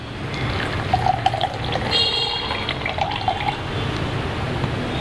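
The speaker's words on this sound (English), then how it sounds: "Some fresh squeezed lime juice." Fresh squeezed lime juice is poured into a glass for a mojito, giving a steady liquid trickle with small splashes against a busy background hum.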